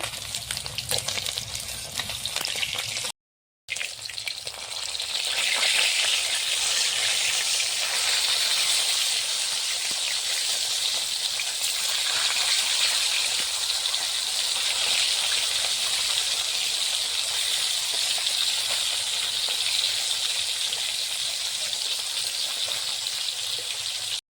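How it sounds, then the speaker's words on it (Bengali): Flipped snakehead fish keep frying in hot oil in a village kitchen, giving a strong, constant crackling sizzle after a short gap near the start, with faint stirring or handling sounds underneath. "মাছগুলোকে এবারে উল্টিয়ে নিব।"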